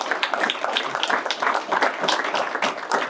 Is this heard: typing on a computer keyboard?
no